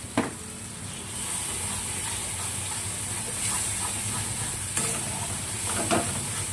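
Spice masala frying in oil in a pan for a pointed gourd and yogurt curry, a steady sizzle with soft stirring scrapes and a few sharper clinks, no talking.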